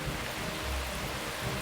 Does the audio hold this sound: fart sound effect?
no